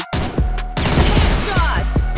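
Rapid automatic gunfire in the online shooter CrossFire, a dense burst of loud repeated shots with sharp pauses between volleys, heard close and alone.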